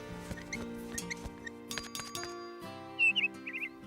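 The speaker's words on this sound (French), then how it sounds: "J'adore t'entendre gazouiller." Pilou, a blue cartoon bird, chirps in short high squeaky trills near the end, over soft animated background sounds and faint tapping.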